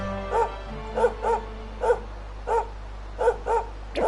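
A dog in the Dragon Quest video game barks repeatedly, about eight short, evenly spaced barks over a faint steady hum, fairly clear and close with no talking.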